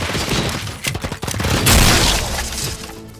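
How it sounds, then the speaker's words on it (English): Gunfire in RoboCop: Rogue City sounds as rapid, loud bursts of shots mixed with crashing, shattering impacts and booms, continuing without pause. "Too bad they're shooting at me"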